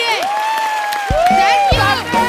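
A television studio audience on a comedy talk show bursts into applause and cheering, loud whoops and shouts layered over clapping, with voices calling out across the crowd.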